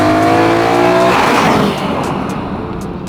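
BMW M3 V8 screaming at high revs near its 8,500 rpm limit, a loud, dense engine howl with rising harmonics that settles into a steady roar without any voices.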